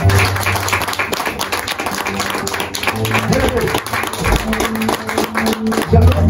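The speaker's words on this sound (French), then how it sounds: "Est-ce qu'on peut acclamer Jésus?" A church congregation applauds and cheers for Jesus during a worship service, loud and continuous for several seconds, with musical tones and voices mixed throughout.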